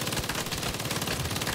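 Rapid automatic gunfire in the Saints Row (2022) video game, a dense unbroken burst of loud shots filling the whole moment.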